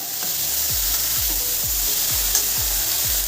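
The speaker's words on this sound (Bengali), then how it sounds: "ফুলকপিটা ভাজা করে নেব।" Cauliflower fries in a large kadai, producing a steady, close sizzle with a regularly repeating low thudding pulse underneath and no talk.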